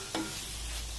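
Mushrooms fry in melted homemade butter for a brief moment, a steady soft sizzle with a light stirring scrape near the start.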